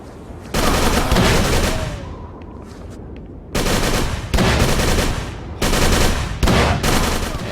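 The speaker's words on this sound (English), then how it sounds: "just to give you an idea of how dangerous an enemy with a Tommy gun is, this guy is ripping me apart" Tommy gun fire from an enemy in Call of Cthulhu: Dark Corners of the Earth, loud close bursts of rapid automatic shots in several long volleys separated by brief lulls.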